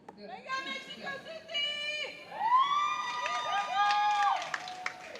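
A crowd at a sports event chants in unison with rising, sustained voices that swell and hold, loud and continuous, with a single voice shouting over it.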